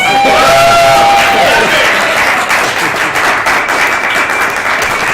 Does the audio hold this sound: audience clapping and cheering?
yes